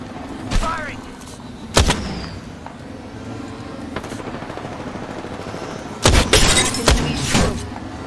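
Bursts of gunfire from the Apex Legends video game, played on an Asus TUF A15 (2022) laptop: sharp, separate shots and short volleys scattered across the clip over steady game background noise, loud near 2 and 6–7 seconds.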